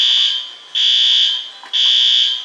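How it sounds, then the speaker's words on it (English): A condo building's fire alarm sounds loud, shrill electronic tones in long repeated pulses separated by short gaps, with no voices. "I can't believe I'm outside when the fire alarm is going off"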